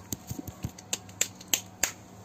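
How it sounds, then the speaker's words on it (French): A small family group at a birthday party claps after the birthday song, with a handful of sharp, separate claps and snaps spaced irregularly, close and fairly quiet. "allez on applaudit"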